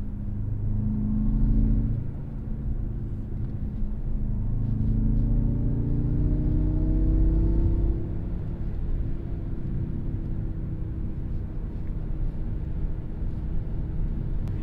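A 2014 BMW M5 F10 with a twin-turbo V8 accelerates, giving a steady deep engine rumble that climbs in pitch through the early seconds before settling into a smooth, continuous drone heard from inside the car.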